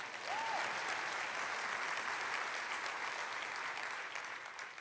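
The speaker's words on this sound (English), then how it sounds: "Yeah, you can clap, don't you?" Keynote audience at a workplace summit breaks into applause: a broad, steady roar of clapping from a large hall, sustained and even, fading slightly at the end.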